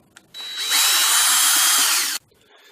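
A power drill whirs steadily for about two seconds, biting into wood with a rough, high-pitched grinding, then cuts off abruptly. Otherwise near silence.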